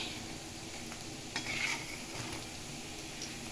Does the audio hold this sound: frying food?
yes